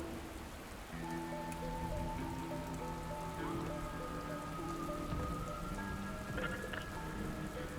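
Steady, heavy rain falls throughout in the game Dustland Delivery, with a constant wash of drops under sustained tonal background music.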